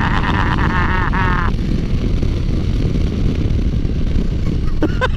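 Honda Transalp 750 motorcycle engine at wide open throttle, a loud, constant roar with rising tonal whine early on, heard close with heavy wind buffeting throughout.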